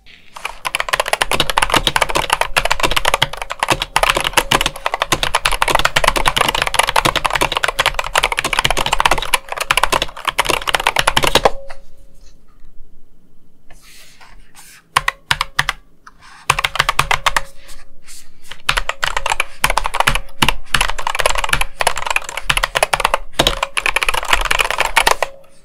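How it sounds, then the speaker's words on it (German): Typing on a Corsair K100 RGB mechanical gaming keyboard with OPX switches: dense, continuous clicky keystrokes, close and fairly loud, with a brief quieter stretch midway before the rapid typing resumes. "Hier mal ein kleiner Soundcheck, wie sich die Tastatur und die Switches beim Schreiben anhören."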